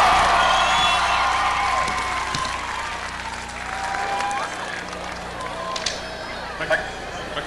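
A large arena crowd honoring John Paddock, a Winnipeg Jets figure, applauds and cheers loudly. The steady clapping and scattered whoops fill the room, then slowly settle as the ovation thins out.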